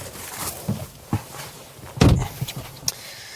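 Frameless car door on a 2020 BMW 2 Series Gran Coupe, several light clicks and handling thuds followed by one loud, solid door shut, then a few softer knocks, close and clear.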